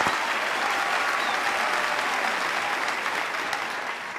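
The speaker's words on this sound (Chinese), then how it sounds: "大家自发的就鼓掌" Sustained audience applause on a Chinese TV job-hunting show, a steady, loud wash of many hands clapping throughout with no break.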